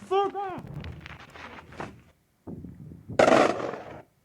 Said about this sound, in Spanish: Se escuchaba la explosión.